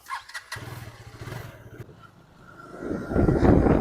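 A KTM 250 Adventure motorcycle engine cranks briefly and catches, settles into a low idle, then revs up loudly as the bike pulls away, heard close up.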